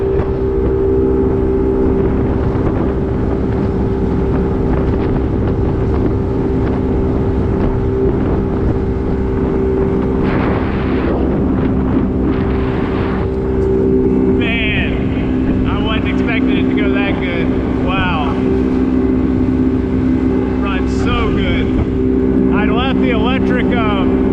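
Outboard engine of a 1971 Boston Whaler Sport held at wide open throttle, a loud, steady droning hum with rushing wind and water noise, while people talk over it partway through.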